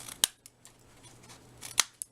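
Scissors snip the edges of paper while a storybook cover is being made: two sharp, distinct cuts about a second and a half apart, with a few fainter clicks between them, close and quiet, with no talking.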